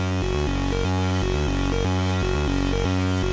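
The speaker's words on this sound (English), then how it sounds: "You can combine it with a modular synth setup to make it sound like this." A Moog Labyrinth synth combined with a modular synth setup plays a rhythmic sequence of stepped tonal notes over a thick, noisy drone, with repeating bass pulses at an even, loud level.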